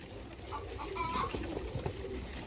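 Soft, low coos from a pair of black-marked pigeons, male and female, repeat a few times close by, with faint rustling and background noise.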